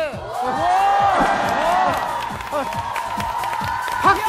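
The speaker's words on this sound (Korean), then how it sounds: "박수 나올 때까지 합니다." A studio audience at a Korean talent-show taping claps and cheers loudly, with whoops and crowd noise running throughout alongside a host's voice and rising vocal exclamations.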